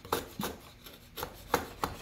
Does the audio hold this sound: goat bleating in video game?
no